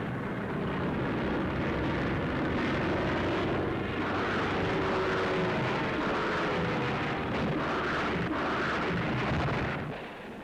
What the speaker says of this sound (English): These are rocket-firing Typhoons.